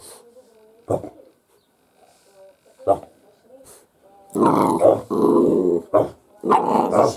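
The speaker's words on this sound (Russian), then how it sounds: "Ты громче рычи." A dog growls low and rumbling in several stretches, interrupted by short sharp sounds, loud and close, with a person's voice in between.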